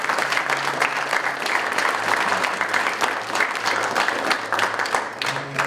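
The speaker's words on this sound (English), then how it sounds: "So a round of applause for her, please." Audience applause at a school drama production, dense sustained clapping from a crowd filling the whole stretch at steady loudness, with faint background voices underneath.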